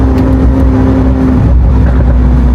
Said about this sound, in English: Another downshift?